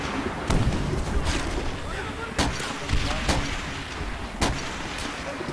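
Sniper rifle shots in a multiplayer shooter game ring out as several sharp, loud cracks spread across a few seconds, over steady background game noise and muffled talk.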